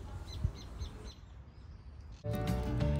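Birds chirp in a tree-filled park in Porto Alegre, with a few short calls over outdoor background noise, and a louder, denser burst of activity near the end.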